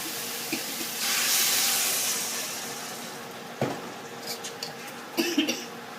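Water is poured into a pan of fried soft pork bones, giving a rushing hiss that rises and fades, followed by scattered clinks and light sizzling pops.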